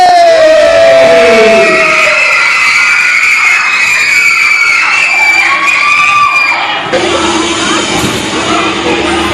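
A loud crowd cheers while children shout and scream excitedly for a magic show, a dense roar of voices that continues without pause.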